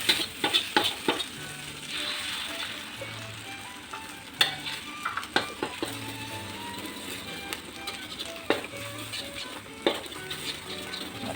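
Char kuey teow fries loudly in a carbon wok as an egg goes in, a steady close sizzle broken by sharp scrapes and clatters of stirring, with no talking.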